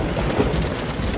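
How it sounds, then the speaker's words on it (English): A keyboard's rain sound effect plays a steady, dense patter of rainfall with a low rumble beneath, brief and fairly loud. "Mr. Frog, why would you want to make rain sounds on your keyboard?"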